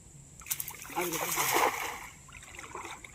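A cast net lands in the water during a fishing outing, a single splashy burst of spray and splatter swelling for about a second before fading, with a voice speaking over it.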